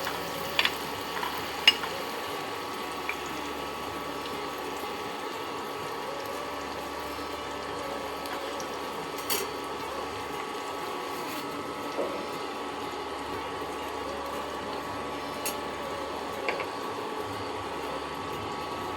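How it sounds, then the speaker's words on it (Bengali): Raw banana slices fry slowly in oil over low heat, giving a soft, steady sizzle with an even hiss and only a few faint pops, close by and without talk. "এবার আমি এটাকে আস্তে আস্তে আস্তে আস্তে ভাজবো"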